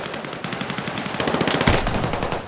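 Rapid automatic gunfire from Battlefield 6, a dense run of close bursts that swells louder toward the middle with a sharp crack near the end, with no talk over it.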